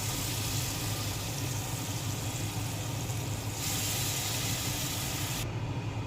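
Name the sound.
hilsa fish pieces frying in hot mustard oil in a wok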